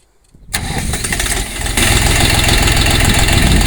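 A Yuto farm tractor engine cranks and catches after a brief silence, then settles into a loud, close, steady running rumble that grows slightly stronger.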